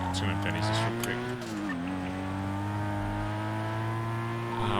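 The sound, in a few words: car driving and tire squeal in video game GTA V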